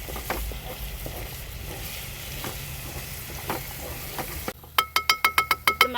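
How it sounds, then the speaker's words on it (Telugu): Masala spices with chili powder frying in oil in a pan outdoors: a low, steady sizzle with faint stirring scrapes, then a brief run of sharp rhythmic ringing beeps near the end. "ఇప్పుడు అసలైన ఘట్టం ఈ మసాలాలు మొత్తం మంచిగా ఫ్రై చేసుకోవాలి"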